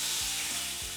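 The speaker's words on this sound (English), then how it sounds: "Listen to that sizzle." Strips of goat meat frying in hot oil for a goat curry, a loud, steady close-up sizzle with faint stirring scrapes and no talking.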